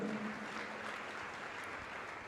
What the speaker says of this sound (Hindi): तारीफ करो ताली बजाकर परमेश्वर की।